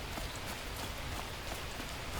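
Steady rain falls in the survival game The Last Plague: Blight, an even, close hiss of drops on surfaces with no voices over it.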